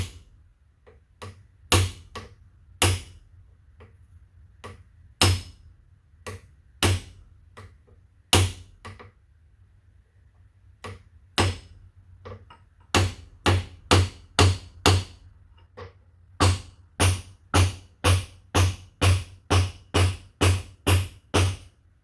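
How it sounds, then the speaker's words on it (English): Metal hammer strikes on a punch driving out a roll pin on a leaking hand pump of a 1086 tractor, irregular single blows at first, then a rapid steady series of sharp ringing taps. "Nothing but a punch and a hammer. Should be able to get it out."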